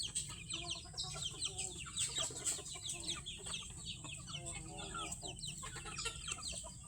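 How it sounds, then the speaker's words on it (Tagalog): Bulik-breed chickens clucking in a steady, busy chorus at moderate distance, with high chirps over a constant low background hum. "Ang lahi pala ng aking alagang mga manok"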